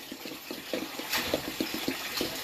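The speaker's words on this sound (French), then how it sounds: "Vous versez votre eau dans la marmite." Water pours steadily into a cooking pot over fruit, a continuous close rushing gurgle with small rhythmic bubbling pulses throughout.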